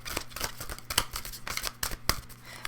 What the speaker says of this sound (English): I will now pull a couple of Learning to Witch cards for you guys.